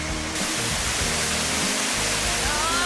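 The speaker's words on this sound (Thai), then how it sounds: "ตรงนี้น้ำตกกวางฟางนะคะ" Kwang Fang waterfall at Phu Kradueng pouring steadily, a loud, close, continuous roar of falling water with no pauses.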